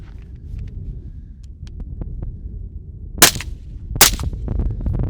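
Two suppressed rifle shots fired at a freezing cold outdoor range, sharp muffled cracks about a second apart over steady low wind rumble.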